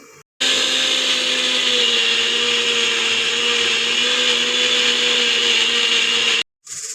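Kitchen blender grinding fresh mint chutney ingredients, a loud steady whirring motor roar that starts abruptly after a brief quiet moment, runs for about six seconds and cuts off sharply.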